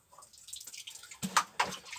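A bag is rinsed and swished around in water, giving a few soft sloshes and drips, quiet and close, without talk.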